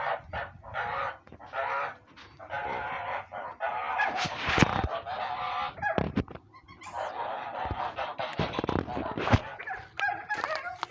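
Domestic geese honking loudly and repeatedly in a farmyard, bursts of harsh calls overlapping in irregular clusters with short pauses between, close to the microphone.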